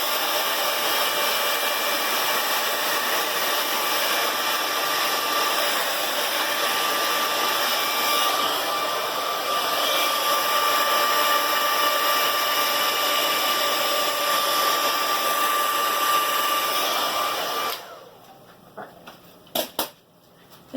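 A hair dryer blows steadily and loudly on paint in a three-color Dutch pour, a continuous whooshing drone that cuts off near the end, leaving a few faint knocks and clicks.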